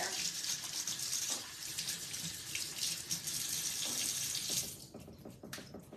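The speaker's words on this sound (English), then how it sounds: "let me wash my hands real quick" Hands are washed under a running kitchen tap, a steady close splashing stream that cuts off near the end and leaves a quieter tail, with no one speaking.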